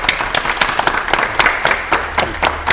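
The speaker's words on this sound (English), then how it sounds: "Well done. Round of applause." A studio audience at a televised antiques quiz gameshow gives a brisk round of applause, sharp individual claps forming a steady, lively patter that stays loud and close throughout, with no talking over it.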